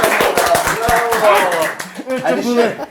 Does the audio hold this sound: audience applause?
yes